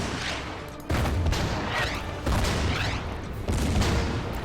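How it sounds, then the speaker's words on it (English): Artillery in the Order of Battle war game fires three heavy booming blasts at roughly even intervals, each a loud close impact trailing into rumble, with no talk over it. "The artillery will hit the enemy artillery."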